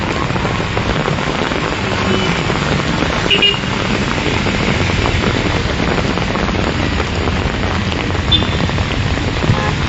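Heavy rain pours over a city junction, a loud, dense and continuous hiss with faint traffic mixed in; no talk.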